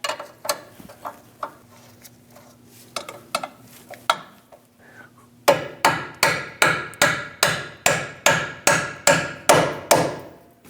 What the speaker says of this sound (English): Using a hammer, tap the bolt through